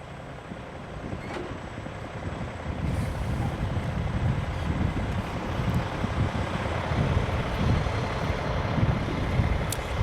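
Truck backing through a blindside offset maneuver at a CDL training yard, a steady low engine rumble that builds slightly, heard from a distance with wind noise over the microphone.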